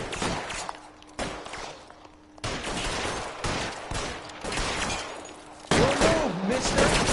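Video game gunfire in L.A. Noire: repeated sharp shots and bursts in clusters, loud and close, with voices shouting between volleys.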